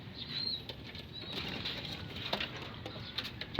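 Racing pigeons at a loft trapdoor, with soft wing flaps and faint cooing over a steady low background hum, moderately close and continuous.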